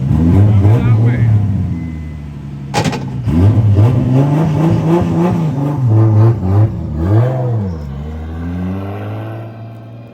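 A 1.5JZ-engined car runs and revs nearby, loud and rough, with repeated blips and a sharp rev near the start, heard under people talking throughout.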